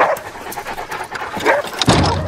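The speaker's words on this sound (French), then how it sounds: "Je dois laisser les chiens dehors." Dogs pant in quick, breathy bursts close by, with faint movement noises around them.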